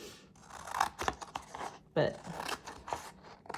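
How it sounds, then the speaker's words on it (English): Scissors snip through scrapbook paper in several quick, close cuts with crisp crunching strokes, under a soft voice. "I'm cutting it with scissors"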